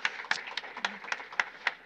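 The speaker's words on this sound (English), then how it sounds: "give him a round of applause." A church congregation gives a round of applause, sharp separate claps spaced through the moment with a faint voice underneath, fairly close and moderately loud.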